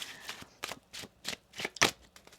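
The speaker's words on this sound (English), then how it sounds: "One more shuffle." Tarot cards are riffled and shuffled in a series of quick crisp bursts, about six in a row, close up with no talking.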